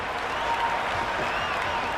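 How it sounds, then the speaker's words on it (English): Crowd cheering and applause in the Cricket 26 video game after a bowler takes a hat-trick, a steady, dense wash of roaring stadium noise with no break. "That's a hat-trick, and the crowd are going wild."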